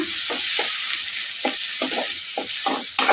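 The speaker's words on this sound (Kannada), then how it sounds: "ಉಳ್ಳಾಗಡ್ಡಿ ಲೈಟ್ ಬ್ರೌನ್ ಕಲರ್ ಬರೋವರೆಗೂ ಫ್ರೈ ಮಾಡ್ಕೊಂಬಿಡೋಣ" Crushed onions frying over a medium flame in a pan, a steady bright sizzle with repeated scraping stirs of a spoon against the pan at an uneven rhythm, close and fairly loud with no talk.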